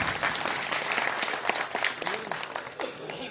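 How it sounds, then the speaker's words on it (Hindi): A rally crowd applauds loudly and steadily to welcome guests at a construction workers' protest gathering in Gurgaon, with dense sustained clapping and a few voices faintly mixed in. "एक बार जोरदार तालियों के साथ आप स्वागत करेंगे सभी"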